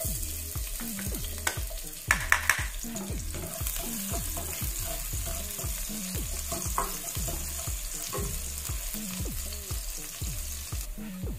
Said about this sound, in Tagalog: Maglalagay tayo ng cooking oil, garlic,